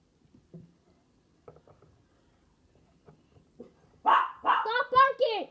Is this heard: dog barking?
yes